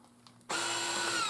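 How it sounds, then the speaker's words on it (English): Vacuum sealer pulling air from a bag of pork necks that holds liquid: after a quiet start, a motor kicks in abruptly and runs as a steady buzzing hum with a raspy edge, close and fairly loud. "Now it's vacuuming the pork necks"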